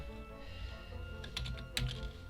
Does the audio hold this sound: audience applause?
no